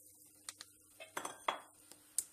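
A metal pot set down on a stovetop to heat before melting butter, giving a few light clinks and knocks of metal, close and quiet with short gaps between.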